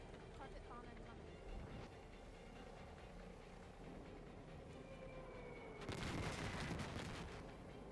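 Carpet bombing in the strategy game Cepheus Protocol, a low, faint rolling rumble with a run of crackling blasts, then a louder burst of impacts near the end. A voice talks faintly in the background.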